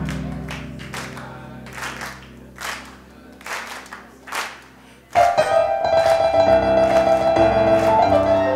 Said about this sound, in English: Go to clap now.